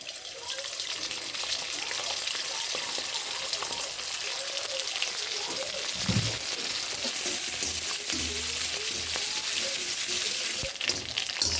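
Rice being fried little by little in hot white oil in a wok, with a steady soft sizzle and crackle throughout and occasional stirring clinks, fairly quiet and close.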